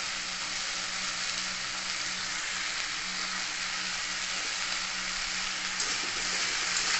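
Potatoes and onions cook in fish oil with turmeric and salt, giving a continuous even sizzle and bubbling close by, with no distinct stirring strokes.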